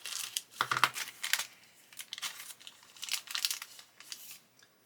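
A sealed plastic bag of scale model kit parts is cut and torn open close by, a busy series of crisp crinkles and crackles in irregular bursts with brief pauses between.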